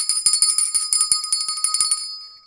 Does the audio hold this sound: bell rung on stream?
yes